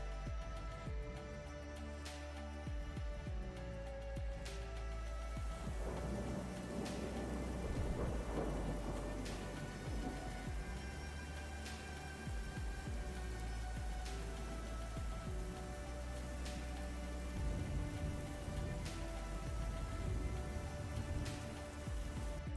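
Steady tropical rainforest rain in the Amazon with several distant thunder rumbles and cracks rolling through, dense and continuous for the whole stretch with no voices.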